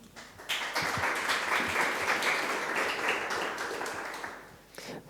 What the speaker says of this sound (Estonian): Ma palun kõigilt aplaus.